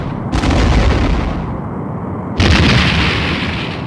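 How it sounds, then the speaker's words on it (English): A Romulan warbird explodes in the space-combat game Star Trek: The Next Generation: A Final Unity, heard as two loud, close, roaring blasts of boom and crackle, each lasting a second or more, with no talking over them. "The Romulan warbird has been destroyed."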